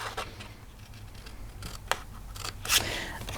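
Scissors cut through 12x12 scrapbook paper in a few crisp snips with light rustling between them, close and fairly quiet.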